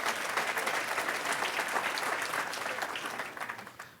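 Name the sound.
audience applause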